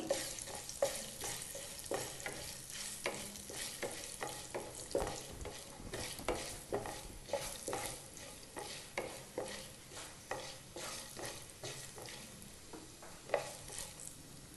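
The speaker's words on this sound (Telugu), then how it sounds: "అలాగే హాఫ్ స్పూన్ ఆవాలు వేసి బాగా కలుపుకోవాలి" Mustard seeds and urad dal fry in hot oil in a pan for a stuffed eggplant curry, a close, continuous sizzle broken by repeated scraping stir strokes, with no talking.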